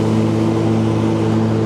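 A Kubota GR2120 4x4 ride-on mower's engine runs at high revs while cutting long grass, a loud, steady drone that holds without a break, close up.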